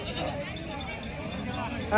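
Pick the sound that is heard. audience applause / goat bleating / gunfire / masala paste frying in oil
goat bleating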